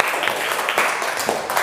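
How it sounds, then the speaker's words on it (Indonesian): Students in a classroom break into brief, dense applause, a close burst of many hands clapping at once. "Oke, tepuk tangannya."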